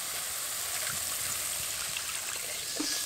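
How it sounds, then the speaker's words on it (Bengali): Water pours steadily into a pan of poppy-seed paste on the stove, a continuous splashing gush that runs loud and unbroken throughout. "এবার এর মধ্যে জল দেব"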